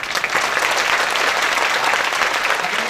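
Dense applause from a seated audience at a business training session, steady and loud throughout, broadband clapping with no pauses.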